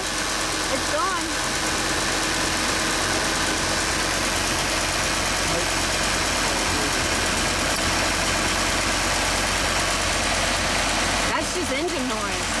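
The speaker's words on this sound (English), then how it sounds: "That's just engine noise, right?" A motorhome engine idles steadily and loudly, a continuous low rumble with faint knocking vibration running unbroken throughout.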